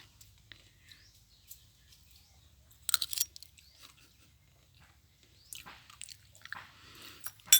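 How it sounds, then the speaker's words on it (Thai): Close-up bites and chewing of food at a Thai/Lao spicy eating session, soft crunchy bursts around three seconds and again from five to seven and a half seconds, with quiet pauses between and no talking. "แล้วเราก็กินแบบนี้"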